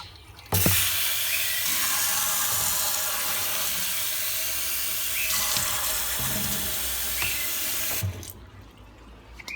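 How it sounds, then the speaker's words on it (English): Cold water runs from a sink tap, filling budgie water dishes in a steady splashing stream that starts abruptly and stops near the end, with brief clinks of the dishes. "Both water dishes will now be filled with water, cold water,"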